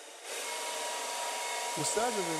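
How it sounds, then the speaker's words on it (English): A hair dryer switches on and blows with a steady, even whoosh while shrinking film around a package; a brief voice sound surfaces near the end. "We use a hair dryer to give the final shape of the package."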